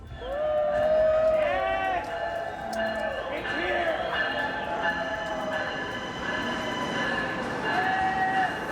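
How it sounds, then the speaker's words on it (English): A new Amtrak Acela high-speed train rolls into New York Penn Station with tonal squeals and screeching brakes, steady rumble underneath, and voices murmuring in the background. "our train pulling into New York Penn at the end of the line."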